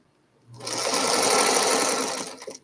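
A sewing machine runs steadily while stitching a quilt block, its fast whirring motor continuous and close for about two seconds before it stops.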